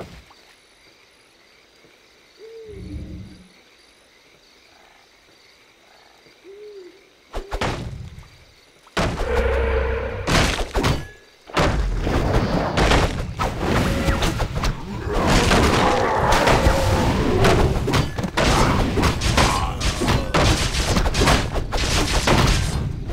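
Real-time strategy battle in WarCraft 3, Night Elf against Human: after quiet ambient game sounds with a couple of brief croaking calls, clashing combat erupts and continues dense and loud, with repeated sharp impacts and bursts layered over each other.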